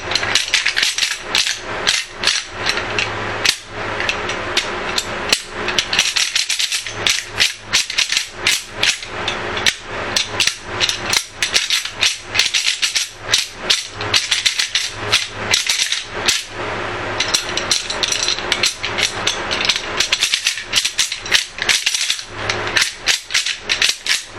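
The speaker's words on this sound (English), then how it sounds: "I carry a rattle bag. This one is made by Primos, which I love." A Primos rattle bag for deer hunting is shaken near the microphone, making loud, dense bursts of clattering and knocking that stop briefly and then start again, with no talk.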